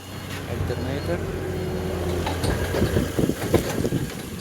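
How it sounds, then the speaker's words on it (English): Mercedes OM651 diesel engine idling with a steady low hum close by, while a person talks over it and some clattering knocks come toward the end. "the engine is running good"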